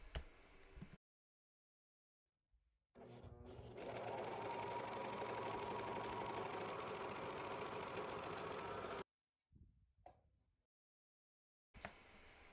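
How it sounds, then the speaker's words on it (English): A serger or sewing machine zigzag stitching closed the back edge of a pixie bonnet, running in a loud, steady mechanical whir for several seconds, with short starts and stops before and after. "use a serge or a zigzag stitch to close up that back edge"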